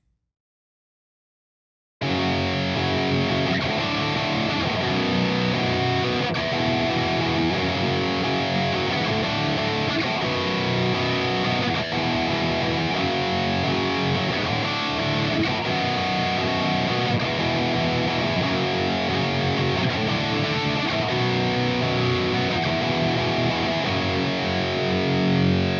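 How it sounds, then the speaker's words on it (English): Heavily distorted electric guitar chords chug in a steady driving rhythm, loud and continuous after a short silence. "click that distortion on right when those chucks come in"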